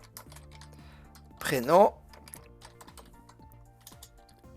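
Form labels are typed into Microsoft Word 365 on a computer keyboard, sounding as a sparse series of light, close key taps, briefly interrupted by a single spoken word in French.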